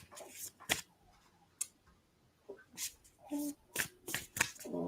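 Tarot cards are shuffled by hand in short, close bursts of riffling and flicking, separated by brief pauses, with a faint voice murmuring in places.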